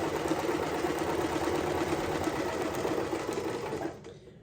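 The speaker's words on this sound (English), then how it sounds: "we're going to sew straight down the edge." A sewing machine stitches a straight seam down a fabric edge for an unpaper towel, running as a steady close whir of fast needle strokes that slows and stops near the end, with no talking.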